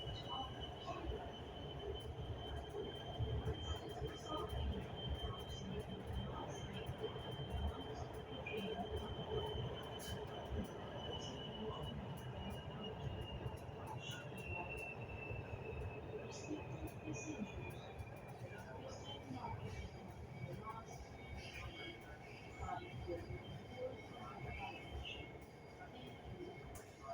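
Lahore Orange Line metro train running along its track, a steady rumbling roar with a faint high whine and occasional wheel squeals, continuous and moderately loud throughout.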